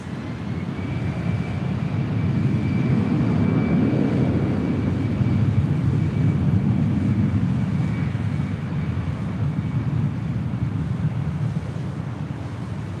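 Allegiant airliner taking off from runway 24 Left at LAX: a loud, steady jet roar that swells and then slowly eases, heard from a distance through heavy wind rumble, with no voices.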